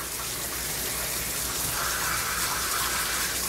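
Warm water runs steadily from a tap during a Papillon grooming session, a continuous hissing gush with no speech.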